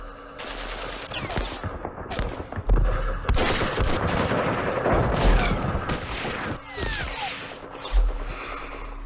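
Gunfire from infantry platoons in the wargame Campaign Series Middle East, a loud, continuous fusillade of crackling rifle and machine-gun shots with heavy thumps, going on for several seconds.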